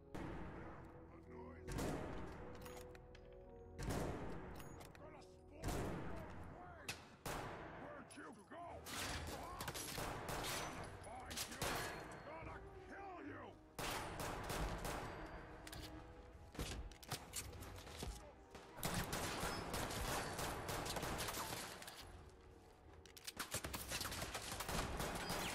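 Gunfire in the Fallout 4 video game: dense, continuous bursts of shots and heavy impacts fill the whole stretch, loud and relentless with barely a pause.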